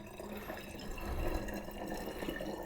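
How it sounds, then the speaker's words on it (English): Homemade cinnamon syrup for a cinnamon whiskey poured into a container, a close, steady liquid trickle with light splashes lasting a few seconds, no voices. "And now our cinnamon syrup. See, this I can pour like a normal human."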